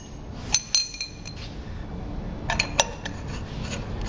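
A larger orifice plate being fitted into a metal pipe union for an airflow meter, a few sharp metallic clinks in two short clusters, close by over a quiet background, no talking.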